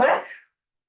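A single sharp sneeze at a water board meeting, close and abrupt, dying away within half a second into silence.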